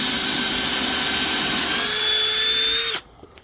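A sub compact cordless drill bores a pilot hole for a lag bolt, a loud high-pitched whine running steadily for about three seconds before cutting off abruptly into quiet.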